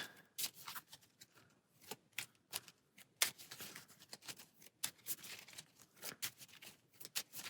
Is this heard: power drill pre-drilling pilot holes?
no